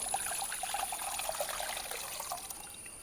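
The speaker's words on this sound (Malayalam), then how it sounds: "ആ ചട്ടിയിലേക്ക് തന്നെ കുറച്ച് വെള്ളം ഒഴിക്കുക" A thin stream of water pours and trickles steadily into a pan, soft and continuous, with no voices.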